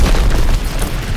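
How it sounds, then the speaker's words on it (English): A heavy, close grenade explosion in Call of Duty: WWII, a deep booming blast that rolls off into a low rumble. "Grenade! Grenade out!"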